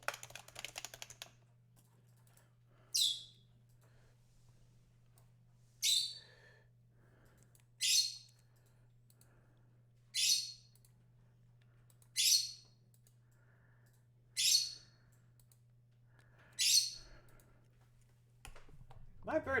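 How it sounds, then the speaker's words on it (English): A pet bird gives repeated sharp, high squawks, about eight evenly spaced calls over a faint steady hum, with a little indistinct sound at the start. "My bird is absolutely going crazy right now."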